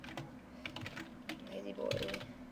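Quiet typing on a computer keyboard, a handful of scattered key taps in an irregular rhythm, close but soft, with faint background noise.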